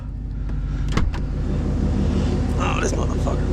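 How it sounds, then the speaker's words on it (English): Car engine idling on a cold start, heard as a close, steady rumble with a light rev. A few knocks sound around it, and people talk over part of it. "We'll give it a little rev, not nothing crazy."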